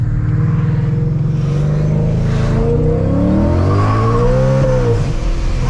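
A 700 whp Ford Mustang revs hard and accelerates from inside the car, its engine note climbing and screaming through the gears, loud and continuous with no talk over it.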